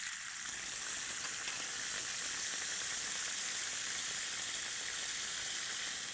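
Honey-glazed salmon sizzles steadily in a pan while sauce is basted over it, a constant close hiss of frying with faint stirring and no talking.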